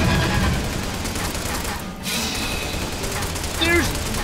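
Gunfire in the arcade shooter Lost Land Adventure: dense, rapid bursts of shots run almost continuously with a brief gap, mixed with game effects and a voice shouting over them.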